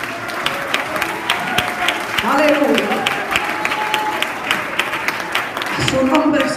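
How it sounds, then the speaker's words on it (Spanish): A church congregation at a youth convention claps loudly and steadily in a big dense round, with a voice calling out over the applause. "Dale un aplauso fuerte a Cristo"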